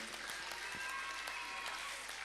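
Steady, vigorous crowd applause for award nominees at a concert, a continuous dense patter of many hands clapping at close range without pause.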